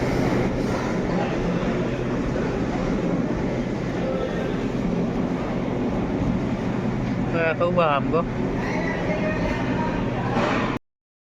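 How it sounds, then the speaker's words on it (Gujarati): A tractor trailer being emptied of its load of crushed brick dust, heard as a loud, steady engine rumble with a brief voice over it near the end before it cuts off. "આપણું ટ્રેક્ટર ખાલી થાય છે।"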